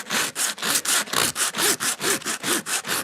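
An 80-grit disc scrubs residue off a W140 Mercedes-Benz S-Class wheel rim in fast, rhythmic back-and-forth strokes, about a dozen close, loud rasps with no talk.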